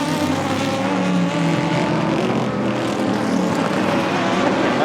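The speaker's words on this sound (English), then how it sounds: "let everyone hear the magic of that engine" An Aston Martin DBR9 race car with a V12 engine runs on a circuit, giving a loud, steady, dense engine roar that holds at the same level throughout.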